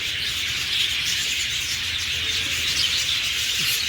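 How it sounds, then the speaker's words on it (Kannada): Lovebirds in a cage at a sand sculpture museum in Mysuru give a dense, continuous wash of high chirping, steady and fairly close, with no talk over it. "ಇಲ್ಲಿ ಲವ್ ಬರ್ಡ್ಸ್ ಒಂದು ಕೇಜ್ ಮಾಡಿದ್ದಾರೆ"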